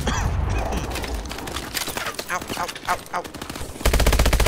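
Rapid automatic gunfire from the Call of Duty: Advanced Warfare video game rattles loudly and almost nonstop, with a brief voiced exclamation mixed in and a heavier burst at the end.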